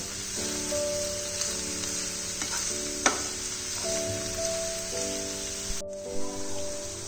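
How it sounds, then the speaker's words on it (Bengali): Snake gourd pieces fry in oil in a pan with turmeric powder, a continuous close sizzle broken by sharp spatters and spoon stirs, with a steady tonal hum running beneath. "হলুদ গুঁড়োটা দিয়ে ভালো করে চিচিঙ্গার সাথে কষিয়ে নেব।"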